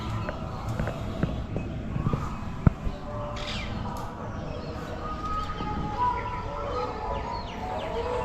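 Doves and parakeets calling on a rooftop: scattered chirps and coos come through a busy, steady background, with no single call standing out loudly.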